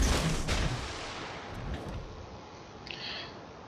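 Torpedoes single-fired from a destroyer in a naval video game, a run of muffled launch thumps and booms over a constant rumble of engine and sea noise, with a brief sharper report near the end.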